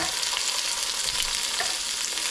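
Chopped tomatoes go into a hot pan while cooking sinigang na baka, bringing a continuous, loud, close sizzle and crackle of frying with no pause.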